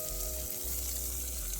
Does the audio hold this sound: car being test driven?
no